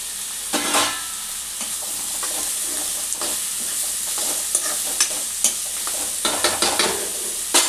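Sliced ridge gourd sizzles in hot oil in a pan for an egg curry, stirred with a spatula in repeated scraping strokes over a steady close frying hiss, with no talking.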